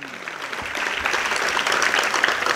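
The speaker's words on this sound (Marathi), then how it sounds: "अशाच टाळ्या वाजल्या." An audience claps at a public lecture about Chhatrapati Sambhaji and Shivaji Maharaj. The applause starts thin and quickly swells into a broad, sustained wash of many hands, with no voice over it.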